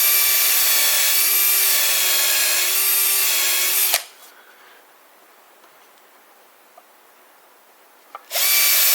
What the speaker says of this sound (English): I'm going to just drill right on the X.